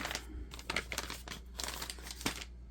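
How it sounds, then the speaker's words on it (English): A card being slid into a paper envelope, with several bursts of crinkling and rustling paper close by, no talking. "Let's get that into the envelope."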